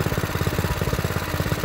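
A Yardworks rear-tine garden tiller's small engine chugs steadily in a fast, even rhythm, running loud and close with no talk over it.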